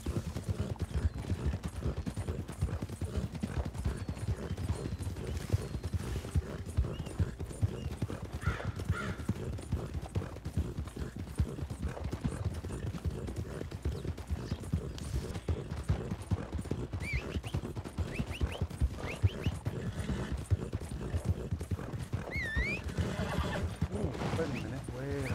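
Steady clip-clop of horse hooves trotting throughout in Red Dead Online, with an occasional whinny, over busy background sound and some talk.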